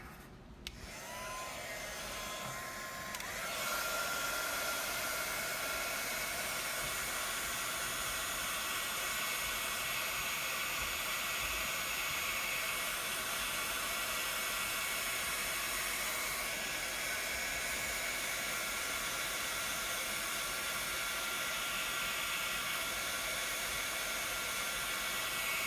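Heat gun heating bullet connectors on new ACM motor wires; after a few quiet seconds it switches on and blows a steady, close, airy hiss that continues without a break.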